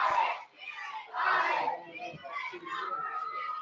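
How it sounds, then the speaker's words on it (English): Crowd noise in the stands at a high school football game between Yorktown and Delta, a steady murmur of many voices with rising swells of cheering at a moderate distance. "You can hear the crowd."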